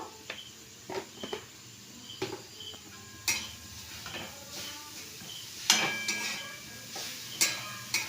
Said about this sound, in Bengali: গাজরটা একটু নাড়তে নাড়তে একটু ঘি দিয়ে দিচ্ছি হাফ চামচের মতো